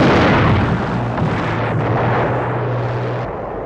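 A crippled P-40 Warhawk fighter in a WWII desert air-war movie scene roars loudly and continuously, a dense broadband engine rush with a steady low drone throughout.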